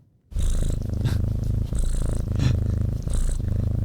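A cat purrs close up in a steady, rhythmic rumble, each breath cycle audible, after a moment of silence at the start.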